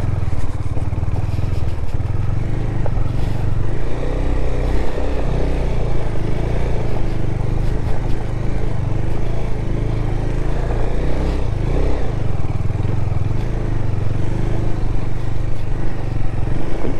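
Motorcycle engine laboring up a steep mountain slope in Kerala's hills, a steady loud droning rumble throughout with rough clattering and slight revving as the wheels skid, close and continuous with no speech.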